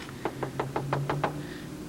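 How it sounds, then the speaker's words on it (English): A run of seven steady knocks on a locked door, evenly spaced and moderately close, with a low steady hum underneath and no voices. "Knock on it and see if he answers."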